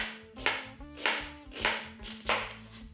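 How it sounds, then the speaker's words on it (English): A knife slicing an onion on a cutting board: four evenly spaced chopping strikes in a steady rhythm, close but soft, over a faint background hum. "Then let's slice this onion."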